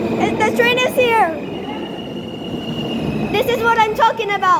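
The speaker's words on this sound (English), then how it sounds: "This is a Rockaway Parkway bound L train." A New York subway L train bound for Rockaway Parkway pulls into a station with a steady rumble and a long high whine, while a voice and an automated announcement speak over it.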